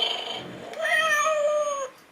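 A pet cat gives one drawn-out meow at close range, clear and fairly loud, following a brief soft sound, with no talking over it.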